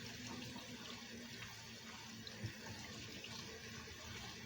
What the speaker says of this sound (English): be sure to rinse your noodles off after you cook them